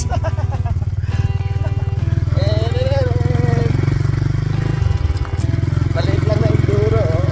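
A small enduro motorcycle engine drones steadily and loudly while being ridden, with a brief dip in pitch partway through, as a voice talks over it.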